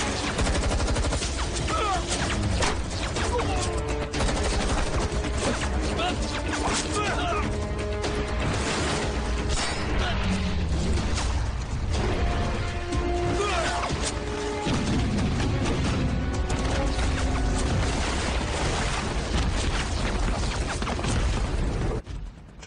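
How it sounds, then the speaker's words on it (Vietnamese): Dense, continuous gunfire and crashing blasts, loud and chaotic, with music and voices mixed in throughout. "Nổ súng chiến đấu rồi."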